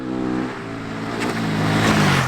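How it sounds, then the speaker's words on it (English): A Husqvarna 701 single-cylinder motorcycle engine revs up, its throaty tone climbing steadily in pitch and loudness over a couple of seconds, close and unaccompanied by talk. "The more you rev it, the wilder this ride gets"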